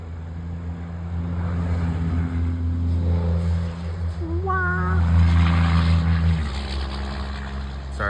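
A vehicle pulling away in the distance, a steady droning engine note that swells and holds before dropping off near the end, with a faint rising whine partway through; no speech.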